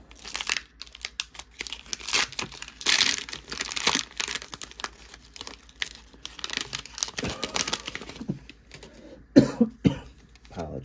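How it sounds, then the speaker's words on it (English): Someone coughs a few times amid crinkling and rustling handling noises, with bits of speech scattered through. "I still have a cough"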